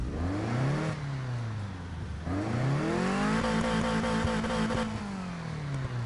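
A flat-four car engine in a video game revs up and down in two sweeping pulls, a loud, close, throaty drone that rises, holds and then eases off.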